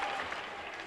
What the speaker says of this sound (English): a big round of applause as Paul Mack comes into the booth